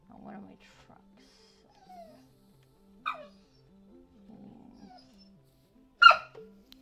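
A dog whimpers close by, giving a few short, high whines spaced a few seconds apart, with quiet stretches and soft tonal background sound between them.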